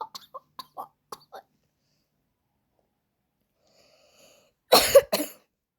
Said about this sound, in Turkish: Eyvah arkadaşlar ben bayağıdır öksürmüyorum ha.